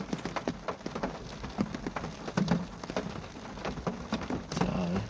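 Rain comes down at a graveyard at night, a steady close patter with irregular drips and taps striking hard surfaces, a faint voice briefly underneath.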